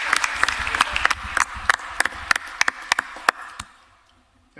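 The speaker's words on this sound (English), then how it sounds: "let's give them another round of applause" Applause from a crowd at a county commission meeting: rapid, dense clapping that holds steady, then thins into a few scattered claps and fades out near the end.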